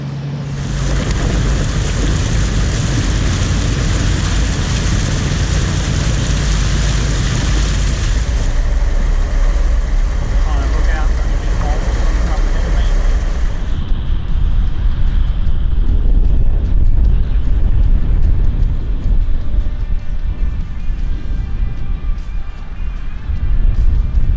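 A 4WD crawls over rocky ground on the Gibb River Road in second gear low range, with a steady low engine rumble and wind buffeting the microphone throughout; the tone shifts about halfway as the vehicle moves on.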